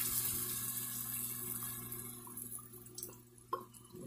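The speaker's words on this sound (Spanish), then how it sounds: "Le vamos a poner un chorro de sillao." Soy sauce is poured into a pan with fried chicken, a faint steady trickling splash over a low kitchen hum, ending with a soft clatter, with no talking.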